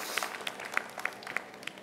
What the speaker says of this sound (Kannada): ಇವರು ಅವರೇ ಬರೆದಿರುವಂಥ ಲೇಖನ ಆಗಿದ್ದರೆ ಅವ್ರಿಗೊಂದು ಚಪ್ಪಾಳೆ